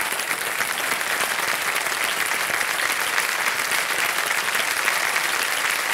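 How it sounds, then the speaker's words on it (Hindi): Steady, dense studio audience applause on the KBC Season 14 quiz show set, loud and continuous for several seconds with no talk over it. "तालियां बज जाए इनके लिए।"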